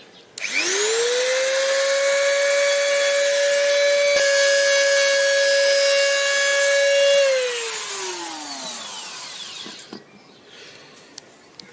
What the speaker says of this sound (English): I'll use both hands on the grinder